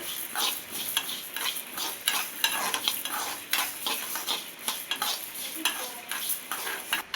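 Cumin seeds and spices lightly frying in a pan while being stirred for chicken pickle, a steady close sizzle with repeated scraping stir strokes throughout, no voices.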